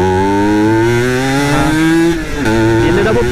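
A Yamaha TZM motorcycle engine revs hard and close up, its buzzing pitch climbing steadily to high RPM, then dipping briefly before picking up again.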